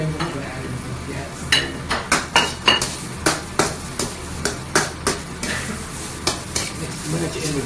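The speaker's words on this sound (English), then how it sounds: "I'm going to put in mainly my cabbage. Mix that in with everything else. Give it a wok towards it. Get it to mix together." Cabbage and other vegetables being stirred in a wok, a regular rhythm of metal spatula strikes and scrapes against the pan over a constant low sizzle of oil, close and fairly loud.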